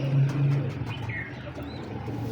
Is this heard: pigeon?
yes